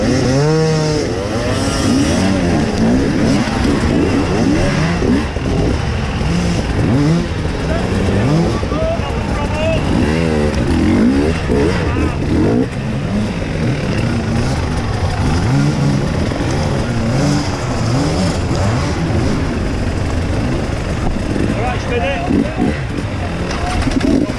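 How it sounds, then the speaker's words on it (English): An enduro motorcycle engine revving hard on a steep hill climb at a hard enduro race, loud and continuous with rising and falling pitch and other engines mixed in, while people talk throughout. "The bike in front of me at the top of the climb by the trees, Paul Daly Smith on the gas"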